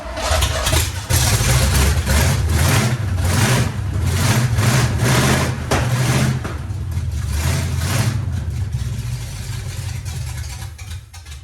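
A carbureted engine fitted with homemade fenderwell headers cranks, fires and settles into a loud, rough idle with blips of revving, close up and steady throughout, with no talking.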